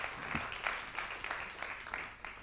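An audience at a university thesis-presentation final applauds a speaker, with fairly faint, distant clapping that comes in uneven bursts and fades slightly toward the end.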